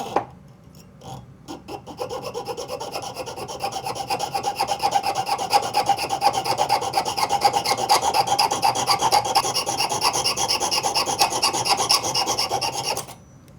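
A hand-held micro saw with a fine 4/0 blade cuts through thick 16 gauge bronze sheet in quick, steady rasping strokes. It starts with a few hesitant scrapes and then settles into a continuous, close, fast back-and-forth rasp for about ten seconds before stopping abruptly.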